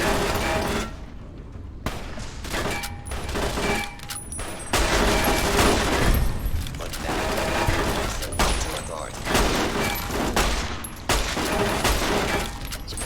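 In a post-apocalyptic shooter, security turrets let loose bursts of rapid automatic gunfire mixed with booms and mechanical clatter. The volleys are loud and recur throughout, with a voice talking at times.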